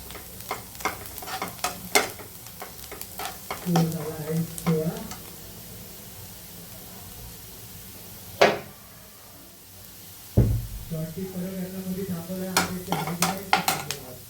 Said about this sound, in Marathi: कांदा असं परतला आहे, लाल लाल झालेला आहे तांबूस